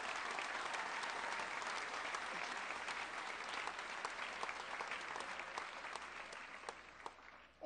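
A crowd at a political rally in Sabinas, Coahuila, applauds the Mexican Armed Forces: steady, dense clapping that holds for several seconds, then thins slightly near the end.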